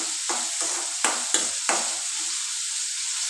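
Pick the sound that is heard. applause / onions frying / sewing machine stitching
onions frying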